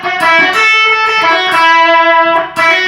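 Electric guitar picking out the opening section of a song intro: bright, sustained distorted lead notes in a fast run, loud and close, with no voices.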